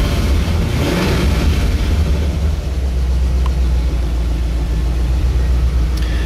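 A 1990 Chevrolet Corvette convertible runs with a loud, continuous low engine rumble close by, holding a steady drone throughout and no talking over it.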